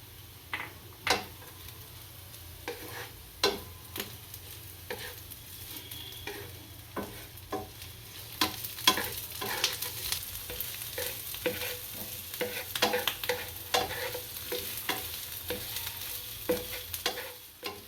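Onion sautéing in a pan for masala cheese Maggi, a soft continuous sizzle under a low hum with regular sharp scraping stirs, busier in the second half, no voices.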